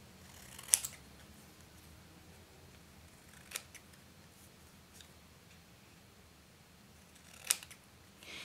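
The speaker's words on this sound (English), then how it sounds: "once you start cutting out these little squares" Scissors snipping leftover planner paper into little squares, giving a few sharp, isolated close snips spaced several seconds apart in a quiet room.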